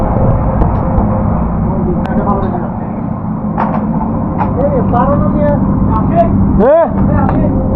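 A houseboat's boat engine runs on Tanguar Haor as a loud, steady low drone that fills the whole stretch, with people talking nearby and a brief rising whistle-like tone near the end.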